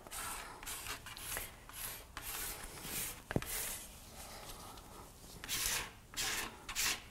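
A block of pure coal wax rubs across paper in soft, dry scraping strokes, quiet and close, with irregular swishes and brief pauses between passes.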